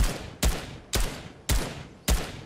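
Gunfire in the Fortnite video game: four sharp, loud shots spaced about half a second apart, each a broad burst with a short decaying tail, heard alone without talk.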